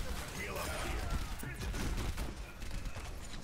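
Overwatch gunfire pours into Zarya's shield in a rapid, crackling volley of shots over a busy game mix, with talk running underneath.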